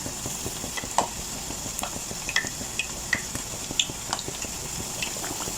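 Chicken frying in hot oil, a steady crackling sizzle with scattered pops and occasional soft stirring knocks, moderately close and with no voices.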